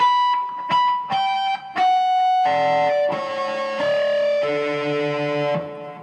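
Ringing electric guitar notes played as harmonics, with bright, bell-like overtones, form a slow descending riff, processed with effects and played alone.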